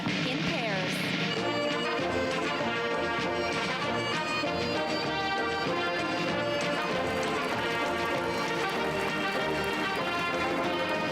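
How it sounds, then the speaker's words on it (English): Horses trot in pairs through the center of an arena during a Diamond Jubilee mounted display, their hooves clip-clopping steadily beneath loud, continuous band music, with a voice also present. "2 waves of 16 horses passing through the center of the arena at the same time"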